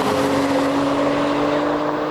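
An Audi RS5 or BMW M3 sports car pulls hard in third gear during a roll-on drag race, its engine a loud, sustained, rising roar from close by with no pause.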